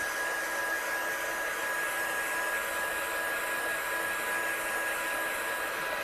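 A heat tool blows steadily to dry ink on paper, a constant close whooshing roar with a thin high whine running unbroken and loud throughout, no voices.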